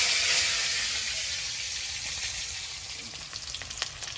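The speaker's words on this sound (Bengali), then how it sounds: "আলুগুলো প্রথমে ভেজে নেব।" Potatoes frying in oil make a steady, dense sizzle that slowly eases in loudness, joined toward the end by scattered crackles and light stirring clicks.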